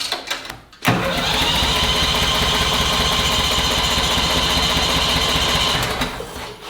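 An old greens aerator's small engine catches after a short pull and settles into a loud, steady, close-up chugging idle that runs for several seconds before easing off.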